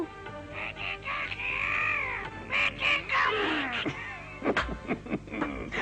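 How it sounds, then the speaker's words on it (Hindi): A young pet parrot in an animated cartoon lets out harsh, raspy squawks in several bursts, loud and close, ending in a few sharp choppy calls. "ये इस लड़की का तोता है।"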